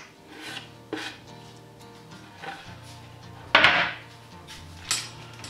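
Garlic and ginger are stirred in vegetable oil in a deep frying pan on a cold burner: intermittent scraping strokes and a few utensil knocks against the pan, close and moderately loud.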